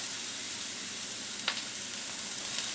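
Mushrooms browning in a hot pan give a steady, even sizzle and crackle, close and moderately loud, with one brief sharper pop near the middle and no voices.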